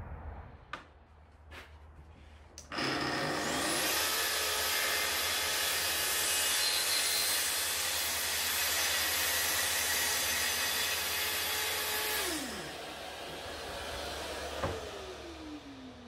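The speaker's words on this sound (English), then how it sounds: "Trimming the bottom of the staircase up" A wooden staircase bottom being trimmed with a power tool, a few knocks before a loud steady whining cut that runs about ten seconds, then winds down, close and without talk.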